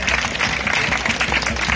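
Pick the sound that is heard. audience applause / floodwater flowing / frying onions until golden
audience applause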